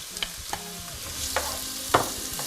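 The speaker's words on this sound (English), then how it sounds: "Just gonna add a bit of oil, and I'll add the onions." Onions frying in oil in a deep pan, with a steady crackling sizzle broken by several sharp scrapes and knocks of a utensil stirring.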